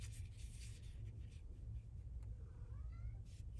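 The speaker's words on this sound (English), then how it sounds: "And a meow from the cat." A cat lets out a soft, rising meow late in the moment, faint and short against low background hum and light rustling of paper crafting materials nearby.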